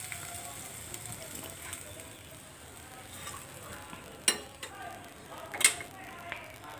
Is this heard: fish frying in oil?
yes